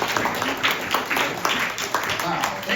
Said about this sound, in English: Give a round of applause and welcome.